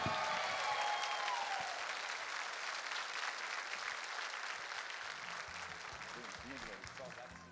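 An audience applauds a singer as he is called to the stage at a sertanejo show, the loud crowd clapping gradually thinning and fading while music begins to rise underneath.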